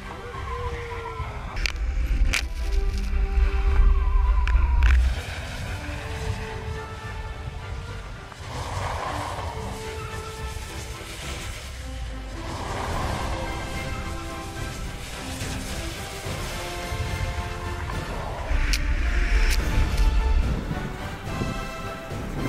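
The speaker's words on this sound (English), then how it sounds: "We're about to head out to the hydroplaning track" A car with half-worn rear tires drives through standing water on a hydroplaning test track at a tire proving ground, giving a steady, loud rushing spray and road roar that swells at the start and again near the end.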